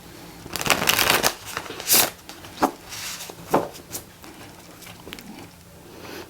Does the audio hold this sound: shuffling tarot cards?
yes